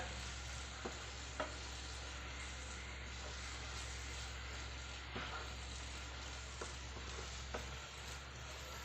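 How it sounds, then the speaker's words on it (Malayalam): Grated coconut being stirred in a pan while cooking a small banana snack, a steady soft sizzle with occasional light scrapes and taps of the spoon, faint and continuous with no talking. "തേങ്ങയുടെ ആ പച്ചച്ചവ മാറുന്ന വരെ ഒന്ന് ഇളക്കി കൊടുക്കുക"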